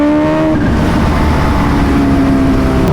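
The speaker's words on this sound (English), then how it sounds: "My mic is probably getting destroyed right now from the sound of this bike." Kawasaki Ninja H2R motorcycle engine revving hard, a loud, close, continuous high-pitched scream with rising and falling whine tones, holding at full volume throughout.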